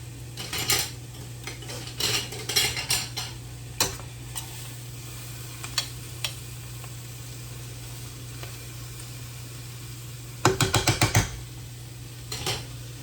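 Garden turnip greens stir-fried in a pan, with a steady sizzle running underneath and scattered metallic scrapes and clinks of a utensil against the pan, including a quick burst of repeated clanks near the end.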